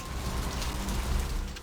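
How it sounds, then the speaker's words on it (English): Steady rain falls in Vampire the Masquerade: Bloodlines, a dense continuous patter of drops on surfaces, even and moderately loud throughout with no voices. "Oh, it's raining."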